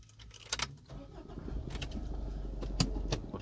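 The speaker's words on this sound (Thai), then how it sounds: "ต้องเอารถผมออกจากทางก่อนครับ" A car with an automatic transmission is started and then moved. A few clicks and a jingle come first, then the engine turns over and settles into a steady low rumble that builds slightly, close by, with no talking.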